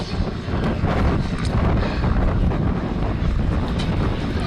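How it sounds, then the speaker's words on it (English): Strong wind buffeting the microphone at an outdoor airshow flying display, a loud continuous low roar and rumble throughout, with no other clear sounds. "This is the wind."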